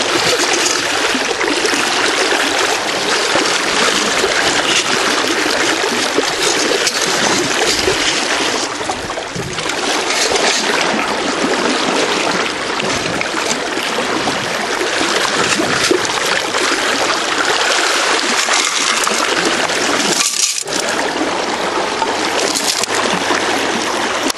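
Stream water rushes steadily past a scooping spot during a gold ring dig, a loud continuous broadband wash with splashy surges and no talking.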